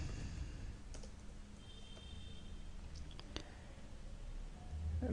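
Command being typed on a computer keyboard, a few soft scattered key clicks over faint room hum, close and quiet with no talk.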